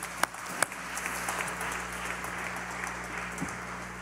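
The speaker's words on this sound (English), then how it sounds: "Let's give another hand clap of praise to Reverend Dr. Nathan Johnson" Applause during a Baptist church service: a continuous wash of clapping from a congregation, fairly loud and even over a low hum, with a couple of sharper claps standing out near the start.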